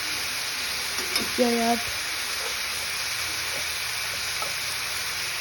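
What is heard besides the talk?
bitter gourd frying in a pan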